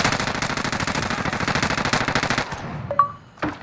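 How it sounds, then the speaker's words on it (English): Rapid automatic gunfire in Warzone, a loud sustained burst of shots lasting a couple of seconds, then cutting off into quieter game sounds and a short electronic tone. "Kids just shooting at me."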